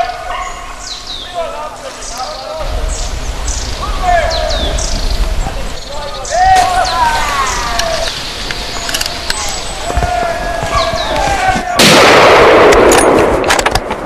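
Rifle shots crack out during a driven wild boar hunt in the woods, a sharp loud blast near the end following quieter stretches with birdsong and rustling.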